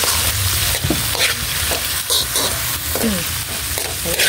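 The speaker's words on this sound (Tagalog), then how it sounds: "Haluin po natin." Vegetables with black pepper frying in a pan and being stirred, a steady loud sizzle broken by repeated scraping strokes of the spoon, close up with no talking.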